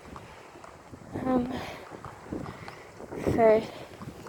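Wind gusts and buffets the microphone during an outdoor walk, swelling and fading in soft rushes while a person talks quietly over it.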